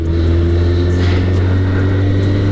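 A 2016 Kawasaki ZX636 KRT Edition motorcycle exhaust with about 5,000 km on it gives a loud, steady, deep drone at close range, a constant hum with no revving.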